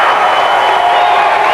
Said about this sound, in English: And the crowd stands and gives him an ovation